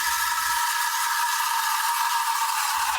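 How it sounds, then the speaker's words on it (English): Espresso machine steam wand in milk without enough air, a steady high-pitched shrieking hiss with a piercing tone, continuous and close throughout. "if the milk makes this terrible screaming sound"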